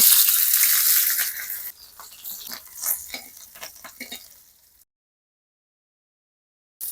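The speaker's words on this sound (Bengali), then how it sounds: "তাওয়াতে পরিমাণ মতন তেল দিয়েছি। আমি এর মধ্যে ক্যাপসিকাম গুলো দিয়ে দেব।" Capsicum pieces fry in oil on a tawa, a bright sizzle that fades into scattered crackles and stirring scrapes before dying away to silence. No one speaks.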